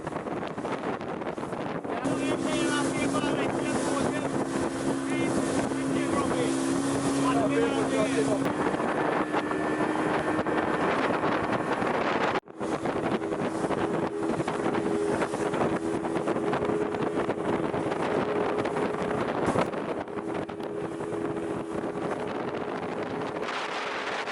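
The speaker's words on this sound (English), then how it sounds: "The sound of the engine, of course, is very familiar to all those who live in this Pomeroon area." A speedboat engine drones loudly and steadily throughout on the Pomeroon River, Guyana, with rushing wind buffeting the microphone and a brief dropout midway.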